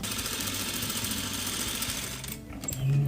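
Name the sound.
sewing machine stitching fabric edge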